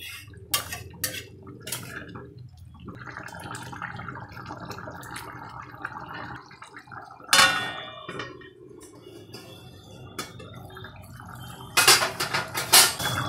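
A metal lid clangs onto a cooking pot of chicken curry (jhol) on the stove, with several bright metallic clinks and knocks over a steady low kitchen hum and bubbling.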